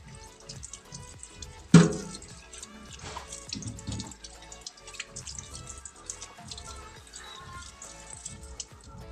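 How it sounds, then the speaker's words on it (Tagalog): Running tap water splashing over eggplant in a kitchen sink, a steady trickling stream with a sharp clatter near the start and soft drips and handling noises throughout. "Hugasan muna natin yung talong."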